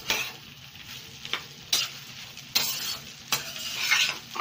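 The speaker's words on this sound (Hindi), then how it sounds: "इसे हाई पे कर देंगे और 2-3 मिनट तक इसे कंटिन्यूअसली मिक्स करते रहेंगे" Egg fried rice is stir-fried on a high flame, with loud frying hiss and sharp, repeated clanks and scrapes of a spatula tossing the rice against the pan, close and without talk.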